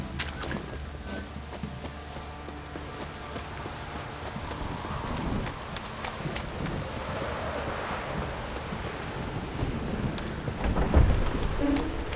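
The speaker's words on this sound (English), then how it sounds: "Rain." Steady rain falls in The Witcher 3: Wild Hunt with low rumbles of thunder and occasional hoof-like clopping, a dense continuous wash with no talking.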